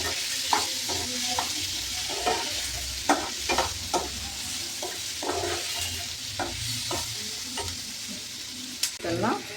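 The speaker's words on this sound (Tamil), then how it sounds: "பொரிஞ்சு வந்ததும் கருவேப்பிலை, இஞ்சி பூண்டு விழுது, வெங்காயத்தை போட்டு" Curry leaves, ginger garlic paste and onion fry in hot oil for an egg curry, a steady sizzle running throughout with repeated scraping stirs and small crackling pops, close and alone.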